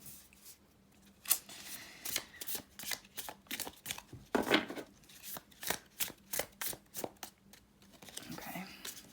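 Close, crisp shuffling of tarot cards, a rapid series of riffles and flicks repeating steadily throughout, with faint background noise.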